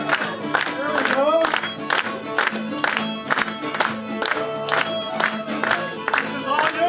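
Audience at a senior center's St. Patrick's Day Irish music event clapping in steady rhythmic time along with a lively tune, the beats regular and loud under the music and singing.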